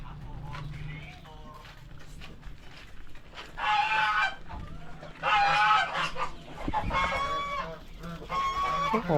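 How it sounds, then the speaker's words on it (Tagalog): Layer chickens in a backyard coop give repeated loud, nasal squawks and clucks in separate bursts, with a low steady hum and someone speaking in between. "Dito yung mga manok niya layer din mga kanaypi."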